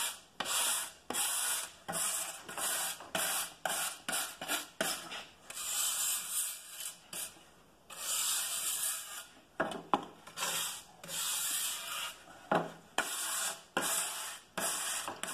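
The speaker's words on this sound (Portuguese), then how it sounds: "Agora é hora da escova. A gente quer que esses fiozinhos da escova penetrem bem ali na madeira." A stiff brush scrubs along charred wood for the shou sugi ban finish, repeated rasping strokes in bursts, close and fairly loud, with brief pauses between passes.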